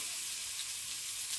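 Spices and garlic sizzle in hot oil left in a pan after a previous dish, with a steady, close, continuous hiss and no voices.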